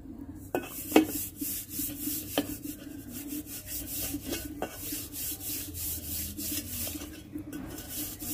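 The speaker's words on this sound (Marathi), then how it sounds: "त्याच्यामुळे हे पावडरने घासावं लागतं" A brass shrine item is scrubbed with cleaning powder to lift lemon stains, making repeated close gritty rubbing strokes punctuated by a few sharp metallic knocks.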